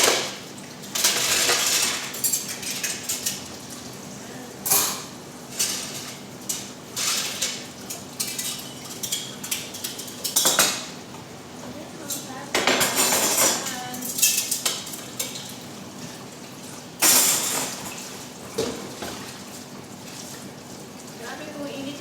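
Plates and dishes being washed, with irregular clinks and clatters of dishware and cutlery close by and a voice speaking intermittently underneath.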